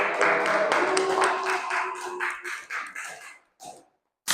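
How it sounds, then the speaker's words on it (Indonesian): A classroom group claps together during a microteaching lesson, a dense burst of hand claps that fades and breaks into a few scattered last claps near the end. "Ya, tepuk tangan untuk kita semua."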